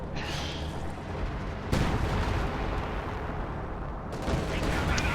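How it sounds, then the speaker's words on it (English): Artillery barrage in a multiplayer war video game, a dense continuous roar of booms and gunfire with sharp explosive onsets, loud and sustained throughout. "This barrage could be devastating, depending on where it's aimed."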